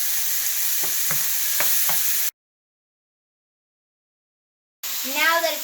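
Ingredients for Persian beef stew (gheimeh) sizzle in a pan while being stirred, a close steady frying hiss with a few scraping strokes, cut by a silent gap before the sizzle returns alongside a brief voice.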